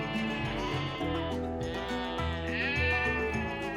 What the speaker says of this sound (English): The sheep would baa happily.